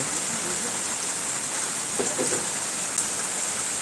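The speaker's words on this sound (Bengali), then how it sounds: "এত বৃষ্টি হচ্ছে" Heavy rain pours down in a steady, dense hiss that never lets up, with a few faint knocks somewhere in the downpour.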